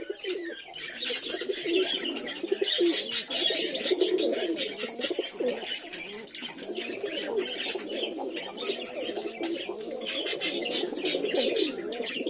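A flock of fourteen white pigeons, mostly males, cooing continuously in overlapping low, throaty calls with bursts of higher chirps, close and moderately loud.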